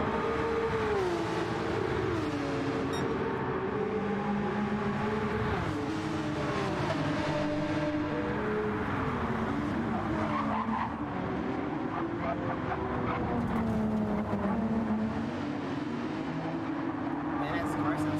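A Porsche Cup race car laps the Nürburgring in a racing video game, its engine droning and shifting pitch continuously under a dense layer of sound, steady and fairly loud throughout.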